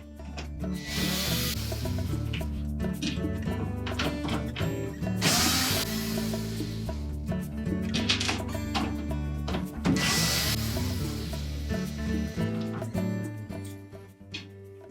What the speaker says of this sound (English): Now next we'll remove the rest of the screws.